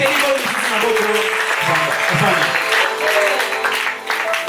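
A church congregation claps and acclaims together, with steady rhythmic applause blended with raised voices and shouts filling the room throughout.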